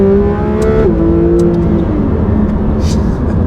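Porsche GT4 RS engine on a track, a loud continuous drone with a falling pitch shift as it shifts, heard from inside the cabin with light rattles and a voice faintly under it.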